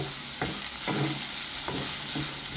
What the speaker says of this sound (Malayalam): നല്ലോണം ഇളക്കി കൊടുക്കുക. ഇതടി പറ്റാണ്ട് നോക്കുക.